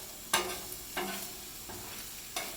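Ingredients for teriyaki chicken and fried rice are stirred in a frying pan: four distinct scraping strokes, spaced apart, over a faint sizzle.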